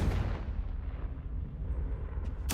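A fiery Confringo spell explosion in the video game Hogwarts Legacy, a dense rumbling low boom that fills the clip and then tails off, with a sharp burst at the very end.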